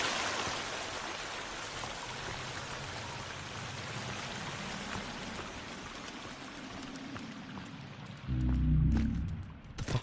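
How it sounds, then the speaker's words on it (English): Steady rushing of an enclosed waterfall in the survival game Sons of the Forest, a dense even wash of falling water that thins near the end before a short low rumble cuts in. "it's just an enclosed waterfall"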